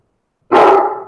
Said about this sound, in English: bark a few times.